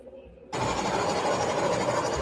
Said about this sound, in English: it sounds like a real locomotive